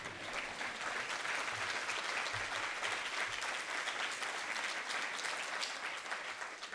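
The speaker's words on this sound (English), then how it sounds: "Let's give Steve applause" Applause for Steve Mason at a Broadway tribute event: a full, continuous round of clapping from the audience, heard at a moderate distance and steady throughout.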